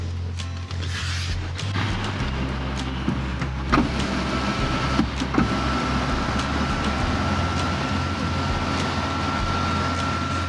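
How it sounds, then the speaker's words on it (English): Electric sunroof on a Leapmotor T03 electric car opening, a steady motor whir running for several seconds inside the quiet cabin, close and alone without talk. "It has a huge sunroof. Let's try to open it and see."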